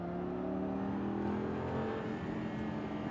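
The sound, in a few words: supercar accelerating on race track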